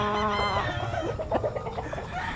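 Green-leg stags, including a Gilmore and a sweater cross, cluck and crow close by, a burst of uneven clucks and a crowing call over farmyard background.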